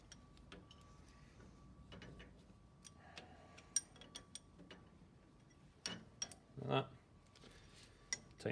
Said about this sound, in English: Loosen off around this side with my spanner.